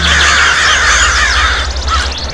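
Crows cawing loudly and close in a forest cartoon scene, several harsh overlapping caws in a quick sequence over a low steady hum, with no talking.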